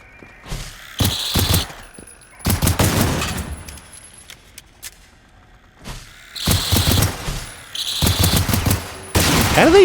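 Pistol shots in the video game Generation Zero come as several loud, sharp bursts of gunfire separated by quieter gaps, with some mechanical clicking between volleys.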